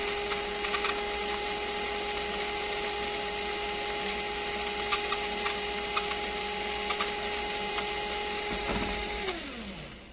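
Genuine Lego motor running in an RPM test, a steady high electric whine held for several seconds at moderate level before spinning down near the end.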